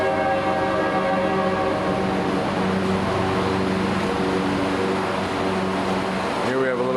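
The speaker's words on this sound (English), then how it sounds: "And here comes the train, too." A train rolls past near a sukkah: a steady, loud rumbling roar with sustained tonal hum runs throughout, and a rising horn-like tone sounds near the end.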